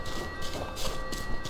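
Train at a station in the video game We Happy Few, rumbling with a rhythmic clatter of wheels and a continuous hiss and hum, fairly loud throughout.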